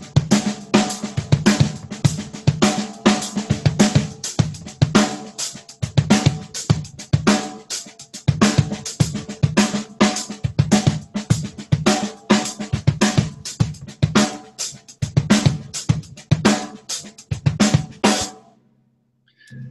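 A drum kit plays a steady, busy groove with dense hi-hat and snare hits, first with hands crossed then open-handed, running continuously for about eighteen seconds before stopping abruptly.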